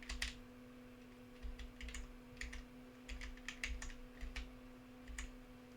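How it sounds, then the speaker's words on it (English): Random keys pressed on a computer keyboard, scattered clicks in small irregular bursts over a quiet background with a faint steady hum. "I just pressed random keys"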